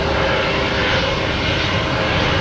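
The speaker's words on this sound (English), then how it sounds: "Lapping waves and jet noises." Jet airliner engine noise at Boston Logan Airport, a loud, steady broadband roar filling the whole stretch with no break and no talk.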